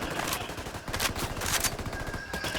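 Dense, continuous gunfire from the video game Ghost Recon Wildlands, with rapid overlapping bursts of automatic shots at a steady loud level and no break.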